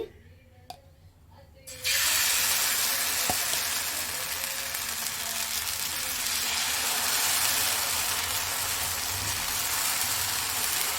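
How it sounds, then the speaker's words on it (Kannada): Dosa batter poured onto an oiled hot griddle for pesarattu, a quiet clatter at first, then a sudden loud, broad hiss that holds steady and close for several seconds. "ಹೆಂಚಿಡೋಣ ಒಂದು ಸ್ವಲ್ಪ ಎಣ್ಣೆ ಹಾಕಿ ದೋಸೆ ಹಿಟ್ಟು ಹಾಕಿ"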